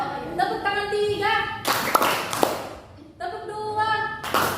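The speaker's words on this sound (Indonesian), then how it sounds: "Tepuk tangan 3." Classroom pupils clap together in a short rhythmic burst of several sharp hand claps. A teacher's spoken cue comes before the claps and more talking follows.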